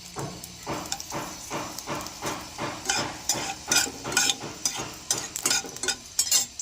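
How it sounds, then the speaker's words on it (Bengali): Two dried red chillies tempering in hot oil for a mixed vegetable curry, a steady sizzle with rhythmic scraping strokes of a spoon against the pan, close and continuous. "তেলটা গরম হয়ে গেছে বন্ধুরা আমি এর ভেতরে প্রথমে দিয়ে দেব দুটো শুকনো লঙ্কা ফোড়ন"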